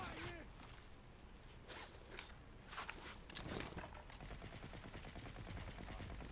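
Video game gunfire from a multiplayer shooter, with several sharp bursts and shots at mid distance scattered through steady background game noise, under players talking.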